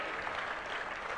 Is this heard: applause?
yes